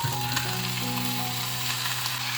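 Tofu dropped into a pan of chicken already frying and browning with spices, giving a steady loud sizzle with a faint stir or two and no voices.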